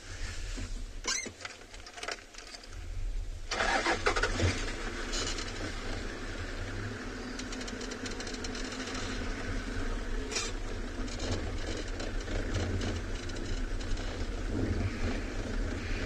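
A safari vehicle drives across open grassy plains at sunrise, with a steady low engine rumble and constant rattling and wind noise throughout, close and unbroken.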